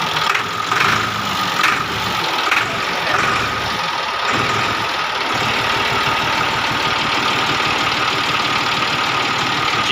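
A diesel tractor engine runs steadily after starting in a diesel pump workshop, a loud, close, knocking idle that holds without a break.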